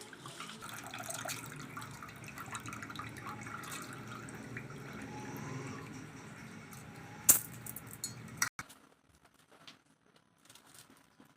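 About half a kilo of rice is washed by hand under a running kitchen tap, a steady close wash of water and patter that stops near the end, leaving a few faint clinks and drips.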